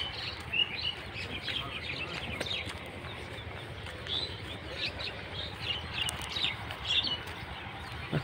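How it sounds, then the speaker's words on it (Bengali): Scattered bird chirps and tweets ring out during a morning walk along a rural road near Nachol, Chapainawabganj, Rajshahi, moderately near over steady outdoor ambience, with no talking. "সকালে রাস্তা দিয়ে হাঁটলে সব পাখির আওয়াজ শোনা যায়।"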